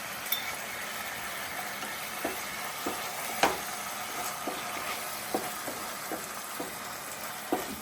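Chilli gobi being mixed with sauces in a sizzling pan, a steady fry with repeated light scraping and stirring clicks at an uneven rhythm, nearby and without talk.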